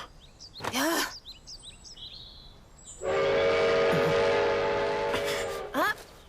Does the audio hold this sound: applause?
no